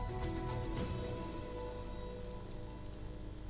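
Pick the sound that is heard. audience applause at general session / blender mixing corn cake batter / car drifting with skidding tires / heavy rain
heavy rain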